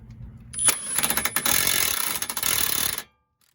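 A power tool zaps down the stabilizer bar nut on a Scion tC during passenger-side CV axle work, a loud, close burst of rattling hammering lasting a few seconds before cutting off abruptly into silence.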